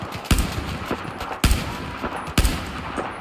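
Three sharp, loud gunshot bursts from Battlefield 4, spaced roughly a second apart, each a hard crack over a steady rumbling battlefield background.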